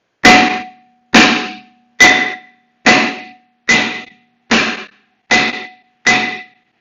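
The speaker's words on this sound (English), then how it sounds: "you might want to take a sledgehammer and give it some good whack" A sledgehammer strikes a seized brake drum on a Toyota Prius C eight times in a steady rhythm, each blow a loud, close metallic clang that rings briefly before the next.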